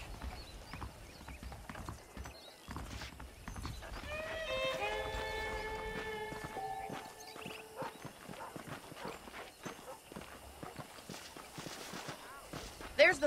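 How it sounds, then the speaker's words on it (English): Horse hooves clip-clop in Red Dead Redemption as a rider sets off from a ranch, with steady walking hoofbeats under a game musical sting and scattered ambient sounds. "The horses are saddled up over here."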